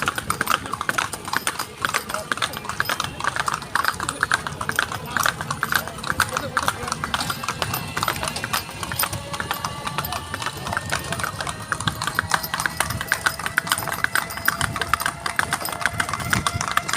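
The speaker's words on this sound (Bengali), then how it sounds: "ঘোড়ার গাড়িতে করে চড়ে আমরা ঘুরতে যাচ্ছি।" Horse hooves clip-clop steadily throughout a horse-drawn carriage ride on a Rajgir tour, a continuous rhythmic trot with occasional whinny-like tones over a constant background hum.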